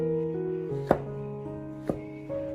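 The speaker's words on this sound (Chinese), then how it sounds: "然后切成香菇末。" A knife chopping shiitake mushrooms into fine pieces on a board, two quiet, distinct knocks about a second apart over a soft background hum.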